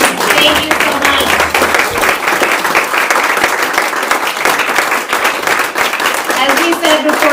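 An audience at a talent show claps steadily in sustained applause from many hands, loud and continuous, with a voice speaking over it.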